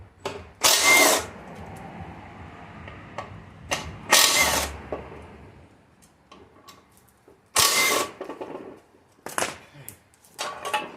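A small 3/8-inch impact gun rattles in several short, loud bursts while working the sump bolts on a Saab 9-3, with quieter clinks and handling noises between the bursts.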